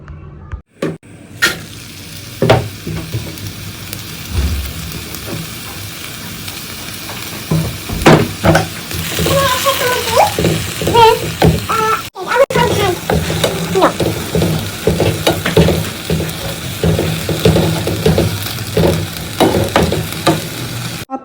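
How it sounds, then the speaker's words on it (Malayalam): Prawns fry and sizzle in a hot pan in a home kitchen, a continuous crackling hiss broken by scraping stirs and knocks of a spoon against the pan. "എന്നിട്ട് നമുക്കത് വറുത്തെടുക്കാം കേട്ടോ."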